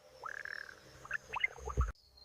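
Frogs call in a rainforest, a series of short, close croaks and chirps in an irregular chorus with a faint insect-like hum behind them.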